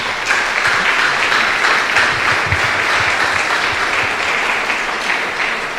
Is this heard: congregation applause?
yes